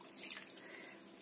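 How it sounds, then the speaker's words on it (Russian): Cold water poured from a cup into minced meat being prepared as chebureki filling: a soft, steady wet splashing and trickling at close range, fairly quiet, with no talking. "Воды прям холодной добавляем"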